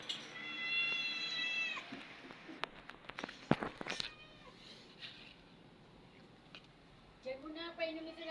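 A pet cat meows several times, short high cries near the start and again at the end, with footsteps, bumps and household voices in between.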